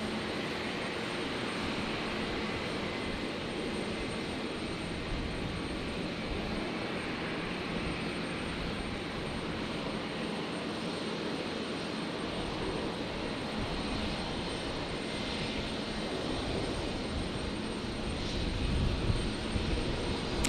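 Steady broad engine roar of a Qantas airliner landing on runway 19 left at Brisbane Airport at night, continuous and fairly distant throughout with a slight swell near the end, no voices.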